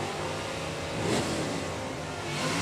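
A Barracuda stock drag race car at a red-light start, its engine revving hard as it accelerates through the gearbox, a steady, fairly distant roar with a brief swell midway.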